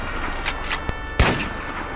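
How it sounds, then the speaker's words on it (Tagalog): Gunshots from a shotgun, sharp bursts with one louder, heavier blast near the end, all over a continuous dramatic background. The count is hard to pin down. "Pumutok ang shotgun."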